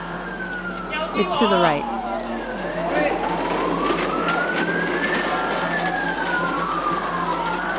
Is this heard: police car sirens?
yes